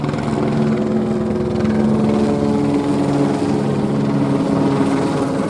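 A police helicopter drones steadily overhead, its rotor thudding in a continuous, loud low hum with no other sounds.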